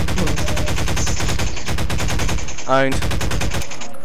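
Shotgun fire in Garry's Mod comes as a rapid, loud, evenly spaced stream of shots that runs almost the whole time, with a brief voice breaking in partway through.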